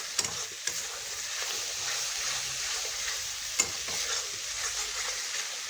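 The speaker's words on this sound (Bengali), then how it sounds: "এবার মশলাটা খুব ভালো মতো কষিয়ে নিব" Spice masala with ground coriander being stirred and fried for jackfruit ghugni, a continuous close sizzle with a few sharp scrapes and knocks of the spoon against the pan.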